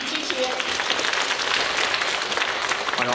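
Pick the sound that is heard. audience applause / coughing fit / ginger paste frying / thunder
audience applause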